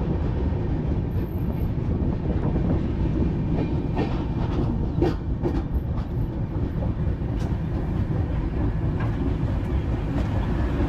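Dhauli Express passenger train running on rails near Khurda Road Junction, a steady loud rumble of wheels and carriages with faint clickety-clack rhythm throughout, no voices.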